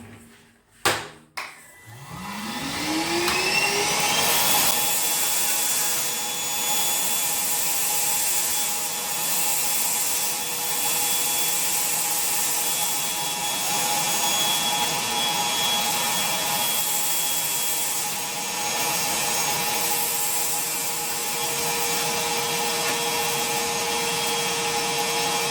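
A Parkside PWDA 20 Li A2 cordless wet and dry vacuum cleaner starts with a few clicks, spins up and then runs as a loud, steady whine close by, with nobody talking.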